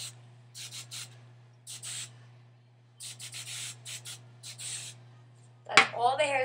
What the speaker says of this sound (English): So take the hairspray.